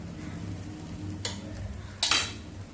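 Jowar flour dhirde cooking in an oiled pan, with a faint steady sizzle and two short bursts of brighter hissing as oil is added at the side and on top.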